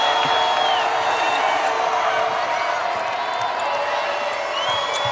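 A high school basketball crowd at a state quarterfinal roars steadily, dense cheering and whoops filling the arena, with a commentator's voice running over it.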